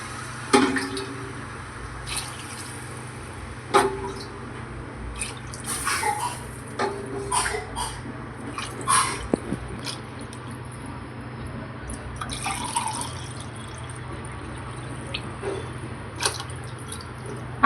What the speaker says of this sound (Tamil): ஆறு டம்ளர் வாட்டர் வந்து ஆட் பண்ணியிருக்கேன்.